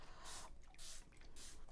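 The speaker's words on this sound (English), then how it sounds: "I'm going to spray it from my spray bottle." Spray bottle misting water onto thick 300 lb Kilimanjaro watercolor paper, three quiet hissing bursts in a steady rhythm, close and soft, with no voices.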